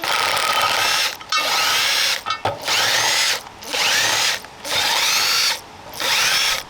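Power tool, likely an impact driver, rattling loose bolts out of a part from a WWII Wespe self-propelled gun in a workshop, loud repeated bursts of about a second each separated by short pauses.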